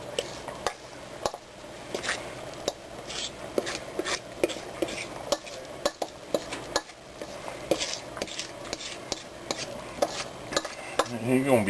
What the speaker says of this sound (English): I'm gonna put it in this nice cast iron pan that we got greased up